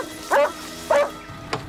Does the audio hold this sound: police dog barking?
yes